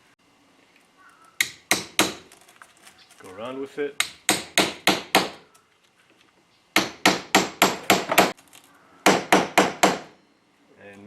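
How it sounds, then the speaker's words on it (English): A hammer drives a strut bushing into place on a 1993-2002 Firebird Trans Am or Camaro front strut, sharp metallic strikes in fast bursts of four to six with pauses, and a brief spoken remark between. "Hammer that in."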